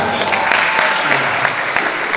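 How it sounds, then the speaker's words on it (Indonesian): An audience at a Merpati Putih martial arts extracurricular demonstration at a school, MAN 1 Banyumas, breaks into lively applause, a dense patter of many hands clapping nearby, continuous and fairly loud throughout. "Iya, tepuk tangan."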